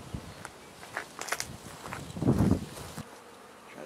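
A honeybee swarm drones in a steady, close buzz while being shaken into a hive box holding a frame of old comb, with a louder low thump and surge of buzzing midway, then a quieter hum.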